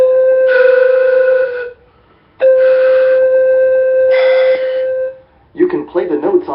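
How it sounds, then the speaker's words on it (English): Pan flute notes with a sharp tongued T attack, two or three sustained breathy tones with crisp starts separated by short pauses, close and loud, followed by a brief burst of speech. "if that T sound is played with the flute in front of you, it sounds like this"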